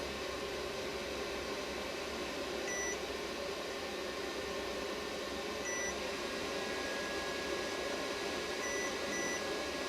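A steady electrical hum with a faint high beep repeating about every three seconds from an Easun sine wave inverter warning, small and thin above the drone.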